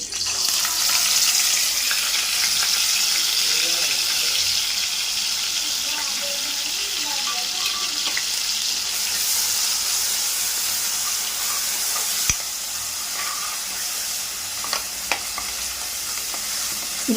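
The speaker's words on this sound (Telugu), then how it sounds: "ఆయిల్ అయితే కాగింది కదా ఈ ఉల్లిపాయ పేస్ట్ అయితే వేసుకున్నాం" Onion paste frying in hot oil for a chicken curry, a steady close sizzle with occasional stirring and a few clinks, continuous throughout.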